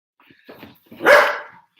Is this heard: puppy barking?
yes